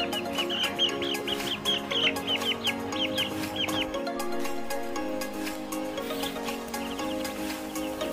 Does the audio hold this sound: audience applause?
no